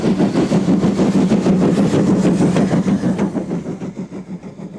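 Steam locomotive 65892 hauls a loaded train on the line from Hartlepool to Sunderland at Ryhope with a loud, fast rhythmic chuffing that pulses steadily and begins to fade toward the end.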